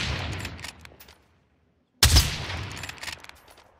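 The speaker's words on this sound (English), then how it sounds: "Oh, he's shooting." Rapid gunfire in a shooter video game arrives as a dense burst that fades out, followed by a silent gap and then a sudden loud crack and another crackling volley, all near and without any voice.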